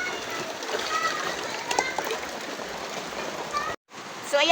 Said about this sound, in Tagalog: lalagyan po natin ng tubig yung washing machine